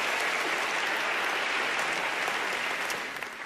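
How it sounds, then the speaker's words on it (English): Sustained applause from a large audience at a motivational talk, a thick, continuous roar of clapping at full strength that thins and fades in the last moment. "I get a round of applause for that."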